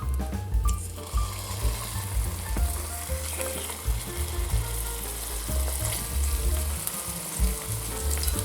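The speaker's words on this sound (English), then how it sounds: "I sear salmon," Salmon fillets searing skin-side down in hot olive oil in a skillet on medium-high heat produce a loud, continuous crackling sizzle with occasional pops and clinks, with no voice present.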